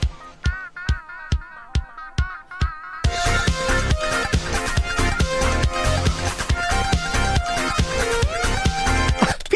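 A few sparse percussive hits give way to a loud, busy synthesized groove from the Pizza Tower game soundtrack, with steady drum-machine rhythm, metallic agogo or cowbell clanks and bright electronic chords.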